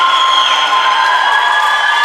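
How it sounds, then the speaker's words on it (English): Fans in the stands at a high school swim meet cheer and clap for a swimmer in a reverberant natatorium, a dense, loud wash of voices and shouting that stays steady for the moment. "The fans in the stands are clapping for her"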